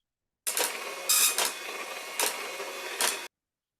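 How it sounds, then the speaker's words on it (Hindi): An impact printer's hammer striking as it prints, a loud, dense mechanical buzz with several sharp bursts over about three seconds and no talk. "ये स्ट्राइकिंग हो रही है, टकराव हो रहा है। हैमर लगा, ये हैमर लगा हुआ है उसके साथ जो प्रिंट हो रहा है।"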